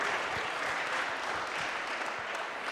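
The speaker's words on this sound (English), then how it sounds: "Give him a round of applause." An audience claps at a one-wall handball event after a player reaches the elite final, a steady, even round of applause heard at moderate distance with no talk over it.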